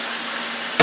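A T-bone steak drops into hot grapeseed oil in a pan, and a loud burst of sizzling breaks out near the end over a steady background of frying crackle.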